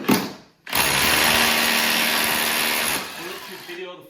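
A power drill fitted with a depth-set bit, used while fitting a bracket, whirs steadily and loudly for about two seconds after a brief lead-in, then winds down to a quieter tail.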